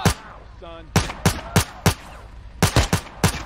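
Gunshots from GTA San Andreas, about eight sharp, loud cracks in uneven clusters, with a brief tonal in-game effect between the first shots.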